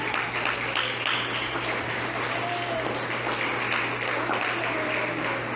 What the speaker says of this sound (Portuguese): dá uma salva de palmas para Cristo